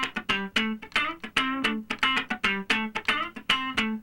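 Funk rhythm guitar plays a straight-feel, fairly fast one-bar pattern: crisp, evenly spaced chord stabs repeating in a tight, close, dry groove with no voices.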